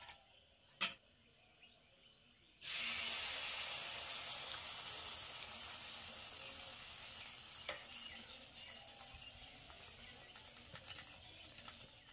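Palm malpua batter hits hot oil and breaks into a loud, steady sizzle that begins abruptly after a couple of seconds of quiet and persists close up, slowly easing in intensity.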